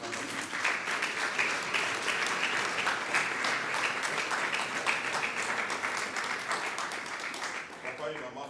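A church congregation applauds the standing parents of Flavia with sustained, even clapping from a large room. The applause continues steadily throughout, with a voice faintly beneath it.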